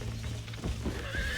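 A horse in Red Dead Redemption neighs with a loud, close whinny over game ambience, with faint hoof clip-clops mixed in.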